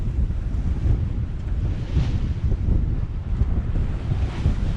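A sailboat making 4.4 knots through the water in 17 to 18 knots of wind at dawn, with loud continuous wind buffeting the microphone over the rushing wash of waves along the hull.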